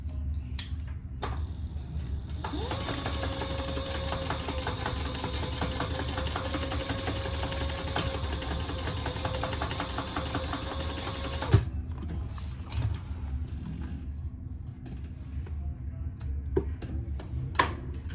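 A sewing machine runs a long steady stitching burst while topstitching the bottom piece of a Horizon sling, a continuous mechanical whir lasting several seconds before stopping, with quiet room noise around it.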